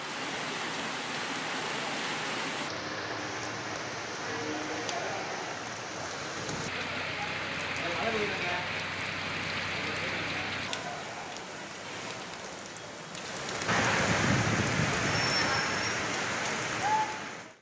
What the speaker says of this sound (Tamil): ராமநாதபுரத்தில் சூறைக்காற்றுடன் கனமழை பெய்ததால் விவசாயிகள், பொதுமக்கள் மகிழ்ச்சியடைந்துள்ளனர்